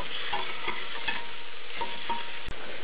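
Apple croutons cook in a pan, giving a steady close sizzle of fat with periodic scraping and stirring clacks, loud and continuous, no one speaking.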